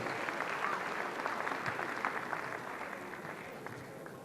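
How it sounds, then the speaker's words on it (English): An audience at a televised comedy show applauds a comedian, a steady, moderately loud burst of clapping from a crowd that softens slightly near the end. "Please give him a round of applause."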